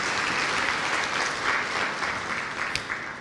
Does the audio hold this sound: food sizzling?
no